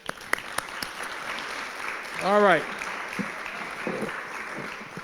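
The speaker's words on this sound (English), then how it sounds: "So big round of applause for the staff here." Audience applause for the staff at a service dog graduation, a steady broadband patter of clapping running through the whole stretch, with a person speaking briefly over it.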